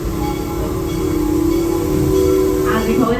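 Serengeti Express park train running with a steady low rumble and hiss throughout, a sustained tonal hum, and faint voices near the end.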